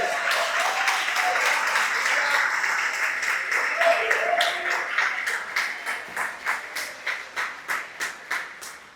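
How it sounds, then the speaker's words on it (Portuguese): A church congregation applauds at a sermon, dense clapping mixed with voices that thins out into a few distinct, evenly spaced claps near the end. "Quem pode dar um aplauso ao Senhor Jesus?"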